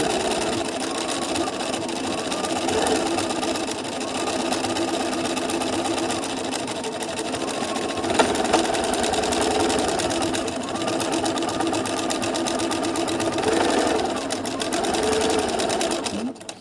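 Sewing machine stitching back and forth over a collage print, a steady close mechanical whirr and rapid needle chatter running continuously with only slight changes in speed.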